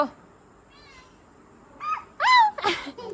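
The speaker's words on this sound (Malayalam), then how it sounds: "പൂച്ച അങ്ങനെ ഒച്ച ഉണ്ടാക്ക." A cat lets out a few meows, first faint and thin, then louder and more drawn-out near the end, against a quiet background.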